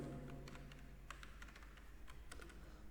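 Keys clatter on a computer keyboard as a party name is typed into Tally Prime accounting software: quiet, irregular clicks in short bursts over a low steady hum, with no talking.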